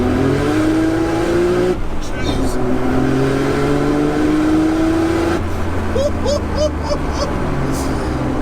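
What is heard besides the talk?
sports car accelerating in second gear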